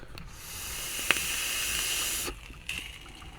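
A steady hissing sizzle from a vape coil after firing, with one sharp click, fading out partway through before a brief crackle returns, close and fairly quiet.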